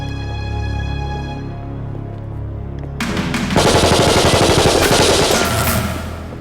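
A TV show scene with a sustained tonal musical or ambient bed, then a sudden loud burst of rapid automatic gunfire that rattles continuously for several seconds.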